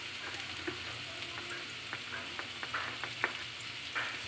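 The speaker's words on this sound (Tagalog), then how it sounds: "Gigisa lang natin ng ating luya. Sibuyas." Ginger and onion sautéing in a pan, a low continuous sizzle with light scattered crackles and occasional soft scrapes of stirring, heard close and without voices.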